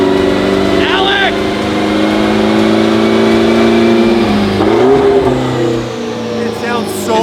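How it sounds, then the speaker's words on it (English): A lowered Ferrari 12C fitted with a Novitec lowering kit revs hard on a dyno, its engine roaring loud and close, then spooling down. People talk over the noise. "when he lets off the gas and it spools down, biggest flames on the dyno."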